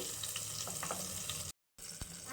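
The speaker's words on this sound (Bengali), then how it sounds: "তো বেগুনগুলো এবার আমি ভেজে নেব" Eggplant slices fry under a lid in a covered pan, crackling and sizzling at a low, steady level, broken by a brief silent gap before the sizzle resumes.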